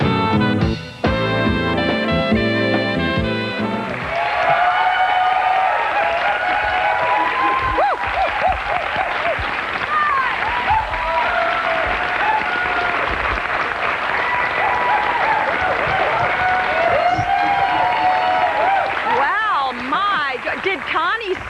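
A large crowd applauds and cheers steadily at a Jerry Lewis Muscular Dystrophy telethon at Merle Hay Mall, following a short burst of music, with voices heard through the sustained clapping.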